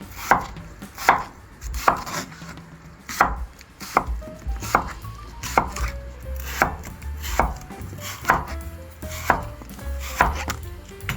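A knife slices old yellow cucumber (nogak) on a cutting board: a steady series of about fourteen crisp, evenly spaced chops, close and moderately loud, with no talking.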